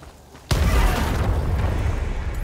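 A grenade launcher round explodes in the video game Helldivers 2, a sudden loud boom that breaks a quiet moment and rolls on as a long, heavy rumble.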